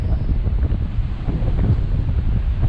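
Hurricane wind during Hurricane Dorian: loud, continuous roaring gusts buffeting the microphone, with no talk.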